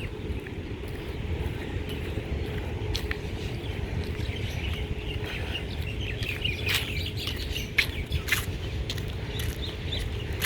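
Mynah birds call and chatter in the background at the banyan tree on Front Street, Lahaina, Maui, scattered sharp chirps over a steady low rumble of ambient noise.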